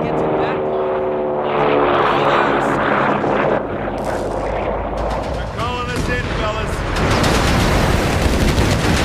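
Gunfire and explosions in a Company of Heroes 3 battle, loud and dense with rapid machine gun bursts and heavy booms layered over shouting soldier voices.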